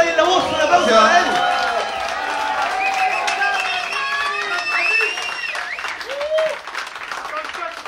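A live concert audience claps and cheers for a guitarist and singer, a dense, loud wash of applause with shouts and whistles, while voices talk and call out over the crowd.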